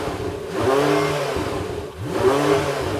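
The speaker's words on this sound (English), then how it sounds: "revving up the naturally aspirated V8 in the Porsche" Naturally aspirated Porsche V8 revving in two strong bursts, each rising pitch climbing then easing off, heard from some distance and loud throughout with no talk.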